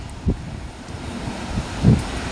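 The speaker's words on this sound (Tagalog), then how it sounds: "Ito naman yung dagat" Waves and wind on a rough sea at a stony shore, a steady blustery rush with a couple of soft thuds of surf breaking nearby, no voices.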